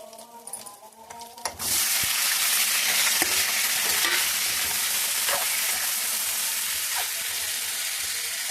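Eggplants dropped into hot oil in a pan burst into a loud, sudden sizzle that then continues as a steady, close frying hiss with occasional stirring clicks.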